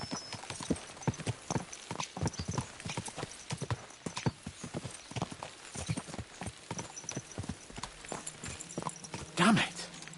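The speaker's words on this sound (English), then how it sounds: "Let's really spur these horses on, eh?" Horses gallop in the video game Kingdom Come: Deliverance II, with rapid, continuous hoofbeats throughout and a brief whinny near the end.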